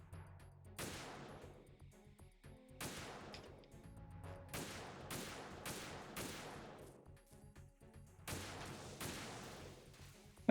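Gunfire in Metal Gear Solid 2, a string of sharp, loud shots in irregular bursts and single cracks with short gaps between them, and no talking over it.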